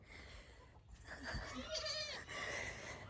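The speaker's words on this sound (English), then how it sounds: "these goats are not happy because they don't want to walk through the mud" Goats bleat in protest at walking through mud, several loud wavering cries close by, overlapping one another over outdoor background noise.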